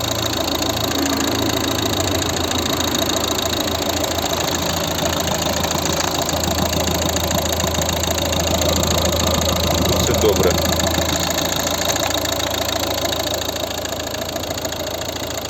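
A 2012 Volvo V50 1.6 HDi diesel engine idles loudly and continuously with a rough, knocking rumble, steady throughout.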